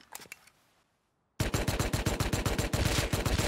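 Gunshots in a video game: a few quick shots, a brief near-silent pause, then a loud, dense run of rapid gunfire close up, continuing to the end.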